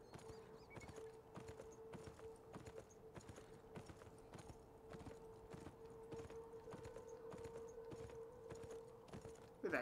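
A horse gallops in the video game Beyond Two Souls, with steady rhythmic hoofbeats at a quiet, even level and a faint tone running beneath them.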